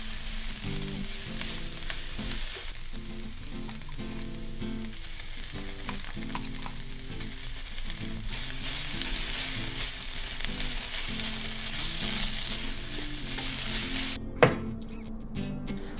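Garlic, seasonings and tomato paste fry in a pan for a lentil shepherd's pie, giving a continuous close sizzle with stirring scrapes and a sharp clink near the end.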